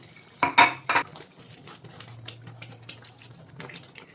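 A spoon scrapes and clatters against a pan while Karachi halwa with ghee is stirred, a few sharp metallic knocks early on, then soft quiet scraping.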